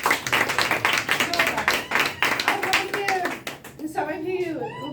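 An audience claps together in a crowded hall at a DXN health and wellness testimonial event, with dense, steady hand claps rolling for a few seconds before thinning out under voices and tonal background sound.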